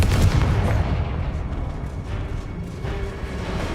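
Confringo blast spell from Hogwarts Legacy, a loud booming burst up front that rolls off into a rumbling, crackling tail lasting a few seconds.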